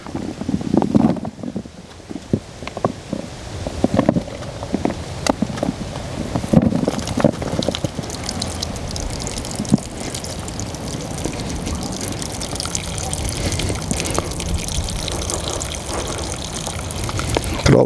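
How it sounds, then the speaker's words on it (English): Crushed apple juice tipped from a container into a bucket through a muslin cloth, a splashing gush and trickle that runs on with bumps and handling knocks, close and fairly loud, during homemade cider making. No voices are heard. "I'm just going to tip as much as I can straight in"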